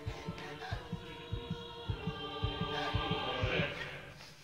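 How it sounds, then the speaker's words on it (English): Dramatic heartbeat in a Phantasmagoria video game cutscene: steady low thumping double beats, about a dozen in quick succession under a droning musical hum, moderately quiet and without speech. "Kind of weird, that heartbeat thing."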